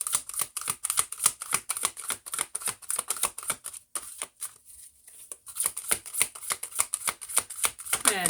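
Rapid, close riffle-shuffling of a deck of tarot cards in repeated crisp bursts, with a brief pause midway before the shuffling resumes, quiet and with no talking.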